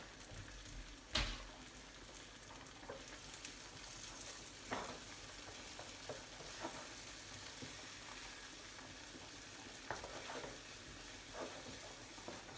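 Onions cook quietly in a pan with a little balsamic syrup, a faint soft sizzle broken by a few sharp utensil knocks and scrapes, with no voices over it.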